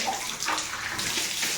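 Water runs steadily from a tap or shower while skin is wetted before lathering with persimmon soap in a bathroom, a continuous close hiss and splash with no talking.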